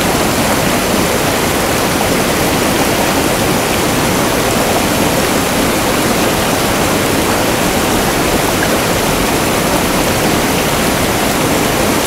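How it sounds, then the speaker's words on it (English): A gushing river roars steadily and loudly, a dense unbroken wash of rushing water with no pauses, alone and without voices. "Now hear the sound of the gushing river."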